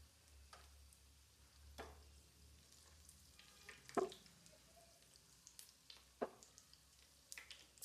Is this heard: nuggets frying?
yes